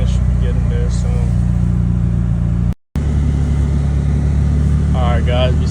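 An Acura RSX with a K24 engine idling steadily at a low, even hum, close and continuous, with a short dropout midway and a person talking briefly over it.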